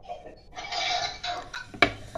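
A knife cuts pieces of balah el sham, the Levantine fried dough, with a steady close scraping and rasping against the board, then one sharp clink near the end.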